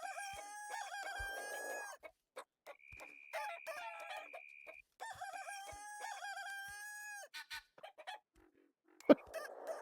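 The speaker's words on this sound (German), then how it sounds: "Da muss jetzt das sein, das hure Gegacker da." In the Baby Steps video game, chickens cluck and a rooster crows in loud, repeated, drawn-out calls, broken by short pauses and a sharp click near the end.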